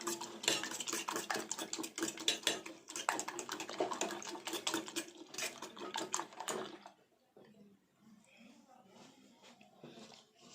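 Egg mixture with chopped big onion whisked briskly in a bowl, busy rhythmic clatter and scraping of utensil against the bowl for about seven seconds, then quieter sparse kitchen sounds.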